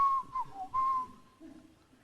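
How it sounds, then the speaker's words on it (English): A person whistles a few brief wavering notes, soft and close, alone without talk. "What if I whistle?"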